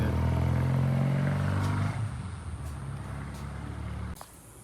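A Triumph T120 motorcycle engine revving off idle, a loud low rumble that drops back after about two seconds to a quieter idle, then cuts lower near the end.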